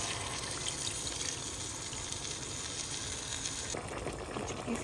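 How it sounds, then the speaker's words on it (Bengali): Milk is poured into a hot pan of cooking food, making a steady close gushing hiss mixed with sizzling that runs without pause. "ভালো করে কষিয়ে এবার আমি এখানে দুধ দিয়ে দিব।"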